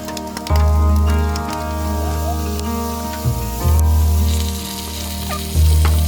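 A big pile of bacon spits and crackles in a pan at a creekside campsite, loud and close, with the sizzle surging in bursts as the strips are moved around.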